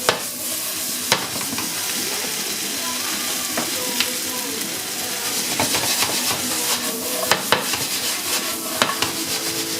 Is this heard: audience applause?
no